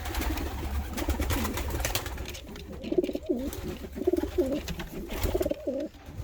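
Pigeons coo in a racing pigeon loft, with a series of close, repeated throaty coos in a rhythmic pattern over a steady background hum and rustle, with no one talking.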